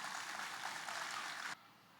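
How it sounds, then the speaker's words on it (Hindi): Audience applause for the students at a girls' Urdu school annual day, a steady wash of clapping from a crowd that cuts off abruptly after about a second and a half, fairly faint. "यहाँ मौजूद तमाम हाजरीन सारी ही तालिबात के लिए ज़ोरदार तालियां बजाएं"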